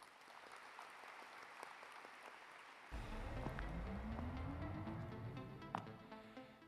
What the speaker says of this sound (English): please welcome Dr. Chang Dae-hwan with a big round of applause